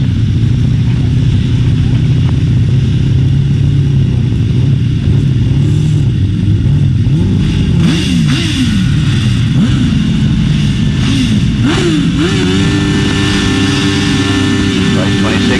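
Several grasstrack racing motorcycle engines rev on the start line and rise in pitch together, loud and close, with a commentator's voice speaking over the engine noise.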